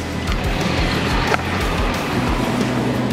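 A car engine idles at the roadside on a hot day, giving a steady low hum throughout, with one brief thud partway through and no talking.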